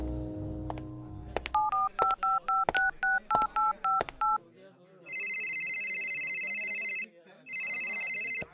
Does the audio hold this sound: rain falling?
no